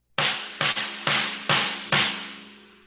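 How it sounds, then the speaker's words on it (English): A snare drum struck five times at uneven intervals, each crack sharp and bright with a short rattling decay, played alone and close. "I can let you know what the snare sounds like."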